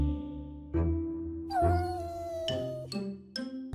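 A cartoon cat named Pepu in a children's animated Cinderella story makes a few sharp, drawn-out meows and a wailing cry over a backing music bed, close and fairly loud, with no talking.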